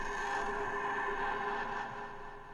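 Knife-on-metal scrape run through a granulizer vocal effect, turned into a dense, buzzing tonal drone with slight distortion that holds steady, then dips a little near the end.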